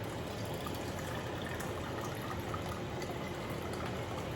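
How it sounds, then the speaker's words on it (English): Tomato juice being poured from a measuring cup into quart canning jars, a steady, continuous liquid rush heard close and fairly loud without pause, with no talking. "start putting our juice in the jars"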